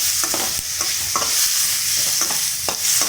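Tomatoes, onion and green chillies sauté in a pan for pudhina (mint) chutney, giving a steady sizzle broken by a few scraping stirs of the spoon, close and fairly loud with no talking.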